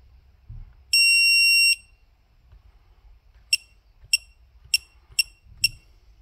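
A high electronic beep holds for about a second, then after a pause five short, sharp beeps follow at an even, quickening pace, close and clear.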